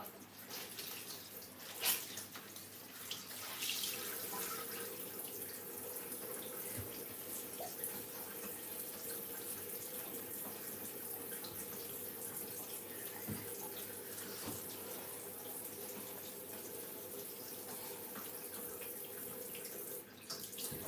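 Tap water runs steadily in a home kitchen during cooking, a continuous close hiss with small clatters and knocks from the sink, no voices over it.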